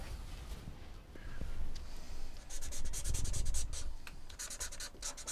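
Pencil or pen scratching and rubbing across tracing paper laid over an image pressed against a window, a close, uneven dry scraping with short bursts of strokes and a few faint ticks.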